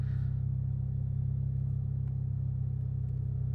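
A car engine hums low and steady in second gear at around 1,000 RPM while rolling slowly through a bend, a constant close rumble with no talk.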